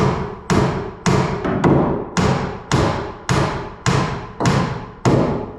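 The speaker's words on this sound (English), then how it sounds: "One more nail. Up high in the rafter." A hammer drives nails into bird blocking up in the rafters, about eleven loud, close, evenly spaced thuds, each ringing briefly before the next.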